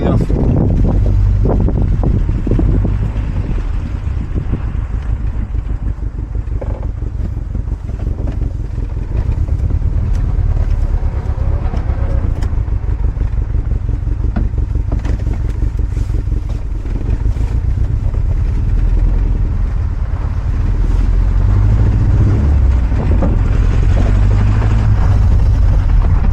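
A Volkswagen Golf 1 GLI is driven and braked gently, giving steady engine and road rumble with wind buffeting at the microphone throughout, and someone speaking French over it.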